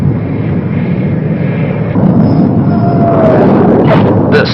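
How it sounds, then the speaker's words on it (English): An A-4 jet returns from a mission aboard a carrier, its engine a broad, steady roar at close range that swells slightly midway, with brief higher whines near the end. "When the planes return from their mission"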